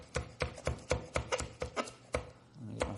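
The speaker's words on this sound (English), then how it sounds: "this knife has a rounded tip on it, which makes it nice for doing stuff like this, where you can run down the middle of a green onion" Knife chopping down a green onion on a cutting board, about ten crisp, evenly spaced close chops with a brief pause before the last, no voices.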